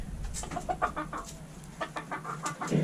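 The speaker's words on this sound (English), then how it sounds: "we got some more younger roosters up here" Young roosters sheltering in a warm farm building on a snowy homestead morning give a close run of short clucks and chattering calls, some quick and clustered, others spaced out, with no talk over them.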